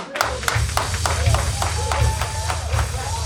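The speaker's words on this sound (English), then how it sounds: "Y'all clapping level ain't shit right about now." Audience applause at a poetry event celebrating Black business during Black History Month, with sparse, uneven claps repeating across the room alongside a voice speaking over them.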